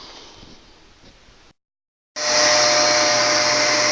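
A vacuum fitted with a fine HEPA-type filter cleans a one-foot square of mattress: a softer motor hum, a brief silence, then a much louder, steady whine close by.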